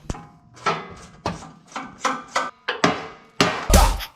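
A hammer strikes a metal socket onto bolts of a Lull 353 telehandler with a Detroit engine about nine times at a steady pace, each blow sharp and close, the last one heaviest.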